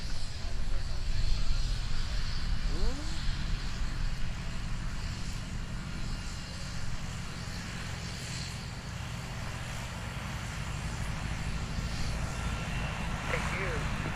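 A light aircraft lands at EAA AirVenture Oshkosh, heard as a broad, continuous engine and propeller drone under heavy wind noise.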